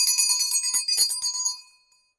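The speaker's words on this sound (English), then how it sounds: "And my mom's bell." A small hand bell rings steadily in a quiet room for about a second and a half, bright and close, then trails off into silence with no voices.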